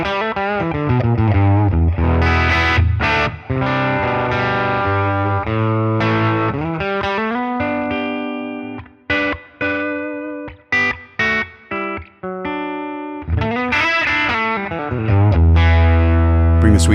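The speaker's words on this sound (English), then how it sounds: "Here I'm playing my Gibson 335, and again, let's go before and after. So here's without any of the sweeteners, just the reverb." A Gibson 335 electric guitar with humbuckers played through a Helix amp model with only reverb, distorted chords and sustained notes ringing out, then a run of short choppy stabs with gaps, and full chords again at the end.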